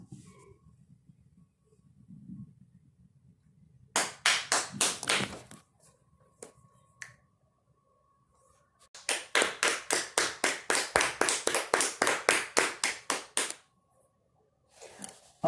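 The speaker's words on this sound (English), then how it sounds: "everyone, please give yourself a hand clap" An audience gives itself a round of applause in two bursts of rhythmic, evenly spaced claps, a short one and then a longer one, loud and close, with quiet murmuring in the gaps.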